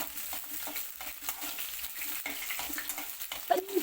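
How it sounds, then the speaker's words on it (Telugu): Chopped onion frying in a pan for vegetable rice, a soft continuous sizzle with occasional stirring scrapes, fairly quiet and close, with no talk over it. "ఉల్లిపాయ వేసి వేపాలి."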